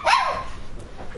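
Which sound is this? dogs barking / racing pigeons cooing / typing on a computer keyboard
dogs barking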